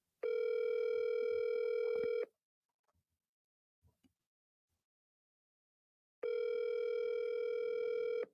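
A phone call ringing out to a contact, two long steady electronic ringback tones separated by a silent gap with a few faint clicks.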